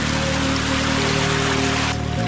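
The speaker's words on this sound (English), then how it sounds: "It's filling up with hot water pretty quick." Hot spring water pours steadily into a dug hole in the rainforest, a continuous close gurgling rush with a low hum beneath it and no voices.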